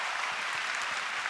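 A church congregation applauds briefly after a pastor introduces his name, a steady broadband patter of many hands clapping at moderate distance without a break.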